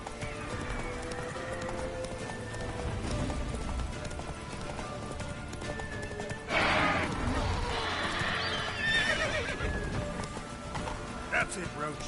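Roach, the horse in The Witcher 3, gallops with a rapid clip-clop of hooves and gives a loud whinnying neigh partway through, under a busy game soundscape with voices.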